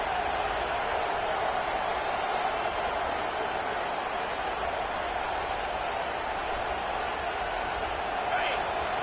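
Steady roar of a stadium crowd in a college football video game on PS5, a constant dense wash of cheering that holds evenly throughout with no breaks.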